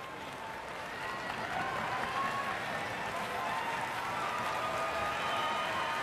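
A crowd at a Brier curling match applauds for both teams, a steady broad wash of clapping heard from the arena stands, holding at a moderate level throughout.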